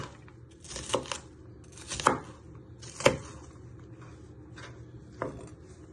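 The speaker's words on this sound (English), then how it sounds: "If you need to go all the way through, use your knife again and give it some force." A knife chops food on a cutting board for pork stew, giving four or five distinct, sharp chops spaced about a second apart over quiet background, close and moderately loud.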